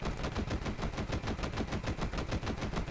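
Sustained rapid machine-gun bursts in War Thunder Mobile air combat, loud and dense with a steady rattling rhythm throughout, no voices.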